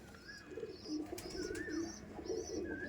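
Golden-eyed Madrasi pigeons give faint, repeated low coos while thin high chirps from other birds sound in the background against a steady hum.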